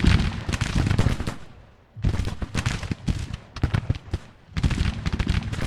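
Civil War musket and artillery volleys in the Grand Tactician strategy game, with dense crackling fusillades arriving in three heavy bursts separated by short quiet gaps, rolling and fairly close, with no voices.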